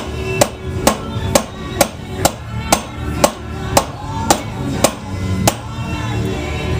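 A hammer lightly taps the wheel axle shaft of a Suzuki GSX-R 600 motorcycle, giving about a dozen sharp metallic knocks at a steady, even pace, close and clear over faint background noise.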